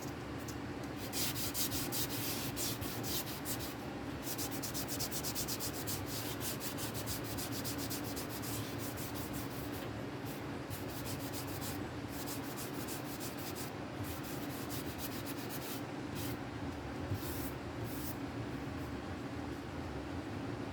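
Continuous back-and-forth scraping of a sanding block on a wooden guitar body, steady and close, with brief pauses between strokes.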